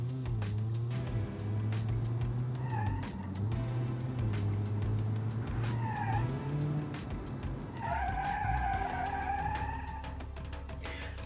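Lawnmower-based car driven in BeamNG.Drive on snow or ice, a steady low engine drone throughout with repeated tire squeals and skid screeches rising and falling over about eleven seconds.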